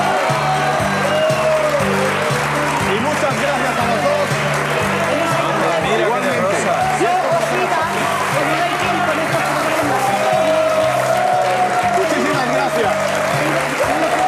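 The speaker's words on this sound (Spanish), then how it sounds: "¡Un fuerte aplauso para ella!" Audience applause on a 2007 Spanish television show, a steady clatter of clapping running throughout and mixed with voices and tonal, music-like sounds.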